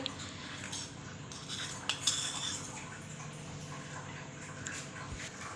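A metal spoon adding spoonfuls of coffee into a mixer jug, light clinking and tapping against the jug, with a couple of sharper taps, close and fairly quiet.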